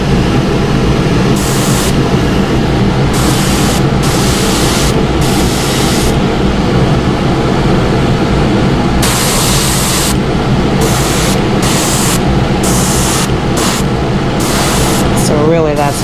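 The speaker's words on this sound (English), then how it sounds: "White does have a tendency to really overspray." An airbrush sprays white paint onto a fishing bait in repeated bursts of hissing spray, some short and some long, over a loud, constant background hum.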